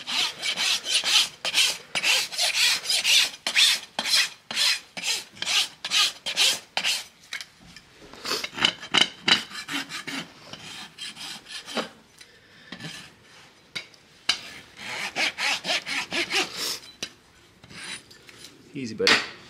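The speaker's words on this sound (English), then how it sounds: "So that's where I need to start with my rasp." A farrier's rasp files a horse's hoof in quick, rhythmic strokes, a near, harsh scraping repeated dozens of times with brief pauses between bursts.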